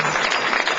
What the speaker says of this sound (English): we want to give a big round of applause